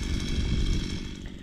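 A motorized earth auger drill bores into hard ground, its small engine buzzing loudly and steadily, easing slightly toward the end.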